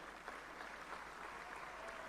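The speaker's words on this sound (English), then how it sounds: "with melodious round of applause, let us welcome our session chair" Faint, steady audience applause in a hall at an ICAI Bengaluru motivational talk, welcoming the session chair, heard as a low, even wash of clapping with no distinct voices.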